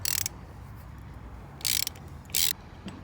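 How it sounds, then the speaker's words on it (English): A ratchet clicks in three quick bursts while loosening the lower clamp bolts on a BMW R 18 motorcycle's controls, close and crisp against quiet background. "first we're gonna loosen the lower bolts on the clamp"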